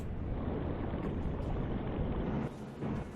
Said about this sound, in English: You can hear that. Those bubbles. Cavitation.